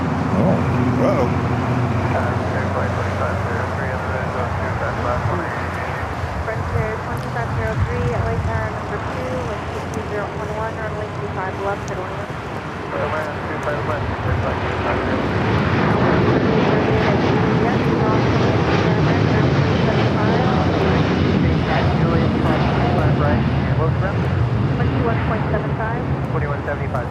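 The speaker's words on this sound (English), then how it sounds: "Dreamliner now rolling down at 25 right" A Boeing 787 Dreamliner rolls down runway 25 right at LAX, a loud, continuous jet roar building through the second half. Voices talk over it.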